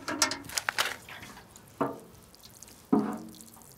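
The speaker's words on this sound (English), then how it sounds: "So I'm just going to water this in." Water is poured over freshly planted pea seeds in a soil-filled container, producing three separate splashy gushes with quiet gaps between them, close by and with no talking.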